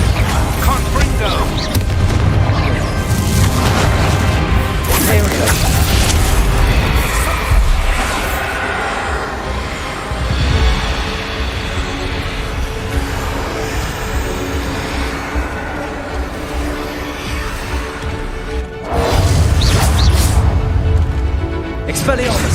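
Explosive Bombarda and Confringo spell blasts in the fantasy game Hogwarts Legacy, repeated heavy booms and rumbling bursts during combat, with a voice shouting over the continuous loud action.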